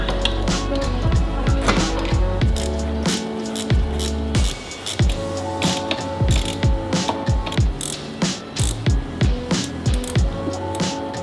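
Shifter cup being screwed into a Subaru Impreza with a WRX STI swap, heard as a steady run of close ratcheting clicks and mechanical rattles that come in short bursts, loudest near the start and pulsing toward the end.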